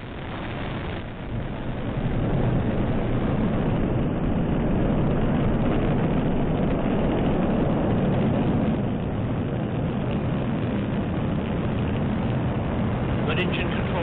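Delta IV Heavy rocket carrying the Orion capsule lifts off at dawn from Cape Canaveral, a loud, continuous roaring rumble that swells within the first couple of seconds and holds steady, with a distant launch commentator speaking over it.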